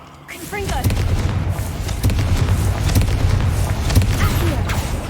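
Confringo spell from the wizarding video game Hogwarts Legacy: a string of loud booming blasts and crackling bursts over a dense rumbling bed, repeating every second or so throughout.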